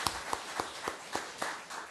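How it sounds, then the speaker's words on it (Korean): Church congregation clapping to welcome a returning member, a short, thin run of hand claps in a loose, steady rhythm, fairly quiet and heard from a distance with no talking. "박수로 환영해 주시기 바랍니다."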